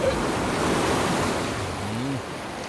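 Ocean waves wash onto a shore in a steady, loud broadband surf roar with some wind noise, and a brief low tonal sound near the end, in a dramatic film scene.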